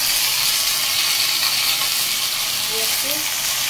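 Ginger paste frying in hot oil with whole garam masala, cumin seeds and bay leaf, a steady close sizzle with faint stirring and a voice briefly in the background.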